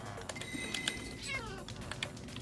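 A Minecraft cat gives a short, faint meow with a falling pitch, over quiet game sounds and soft clicks.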